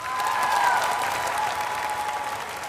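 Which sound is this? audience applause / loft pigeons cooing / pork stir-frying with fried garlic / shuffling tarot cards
audience applause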